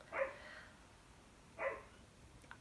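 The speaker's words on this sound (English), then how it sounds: "So sorry if my neighbor's dog is barking in this video." A neighbor's dog barks twice in the distance, two short faint yaps about a second and a half apart over a quiet indoor background.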